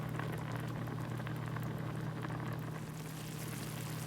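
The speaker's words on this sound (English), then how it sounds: "some of the water starting to boil out" Water boils in a pan with chicken breast cooked without oil or grease, a steady close bubbling and hiss with a low constant hum underneath and no talk.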